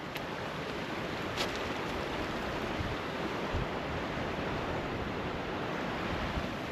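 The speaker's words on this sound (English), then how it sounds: "You can see the water flowing." Big Sucker Creek near Duluth, Minnesota, flows beneath clear winter ice, a steady soft rushing wash of water that stays even and fairly faint throughout, with no talking.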